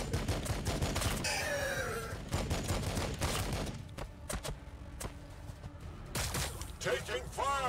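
Volleys of gunfire in the Warhammer 40K Battlesector strategy game, heavy at first and then thinning to scattered sharp shots, with a short voice sweep near the start and at the end.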